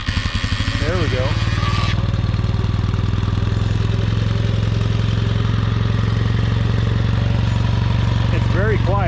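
A 1957 Triumph TRW Mark 2B motorcycle engine idles loud and close with a steady, even putter and a mechanical clatter, as a voice talks briefly over it.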